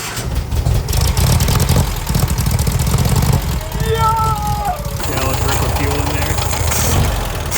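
A dune buggy engine on a new carburetor runs loudly and steadily throughout, a rough mid-pitched idle with uneven surges, while people talk over it at close range.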